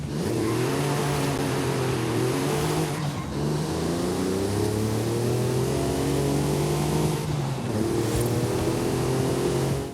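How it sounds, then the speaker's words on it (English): A 1990 Vauxhall Lotus Carlton in Forza Horizon 5 roars as its engine climbs through the revs, with two brief dips for gear shifts, loud and up close throughout. "let you listen to how this thing sounds"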